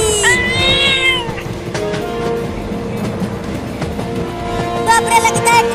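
A cartoon cat meows and yowls loudly in a chase scene beside a slowly moving train, drawn-out wailing cries over a rumbling background with a voice speaking over part of it.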